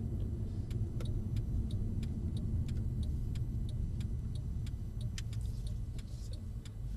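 A Mercedes-Benz CLS AMG drives at a steady pace on a driving-experience course, heard from inside the cabin as a constant low engine and road drone, with a regular light ticking running through it and no talk.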